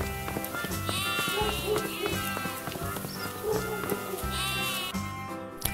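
Sheep and goats on a farm bleat in wavering, repeated calls of moderate loudness, heard over continuous background music.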